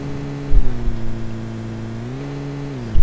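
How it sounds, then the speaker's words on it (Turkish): Engine of a car being driven in PUBG Lite, a steady mid-pitched drone that shifts pitch as it accelerates, with a few bumps and thuds, close and loud throughout. "Bin arabaya. Bin araba sür sür sür."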